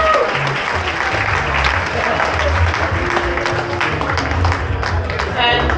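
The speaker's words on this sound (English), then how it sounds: "a big round of applause for them." Wedding reception guests applaud in a steady, dense wash of clapping that lasts throughout, with crowd murmur mixed in.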